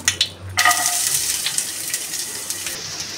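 Chopped ginger hits hot oil in a pan, a sharp sizzle that rises suddenly and then settles into a steady, close frying hiss with light crackles. It continues alone.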